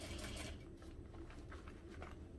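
A home sewing machine runs steadily while stitching all-vinyl fabric with attached diamond anchors, a soft continuous whirring hum at low volume with no talking.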